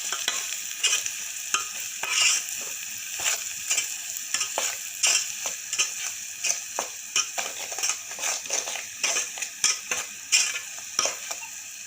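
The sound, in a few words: stirring spices into pan-cooked sprouted legumes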